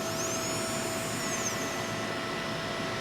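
The high-torque spindle motor of a Star STG CNC tool grinder runs with a steady, even hum and a high whine, close and constant, with no talking.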